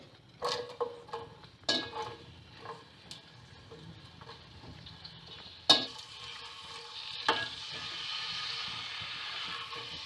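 Onions frying in hot oil in a pan for moong daal, a soft steady sizzle broken by several sharp stirring knocks and scrapes, close and without talk.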